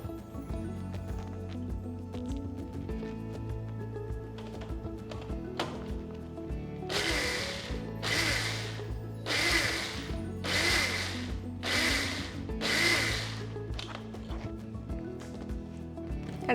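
A blender beats oil into homemade mayonnaise in about six short, loud whirring bursts of a second or so each, separated by pauses with faint background hum.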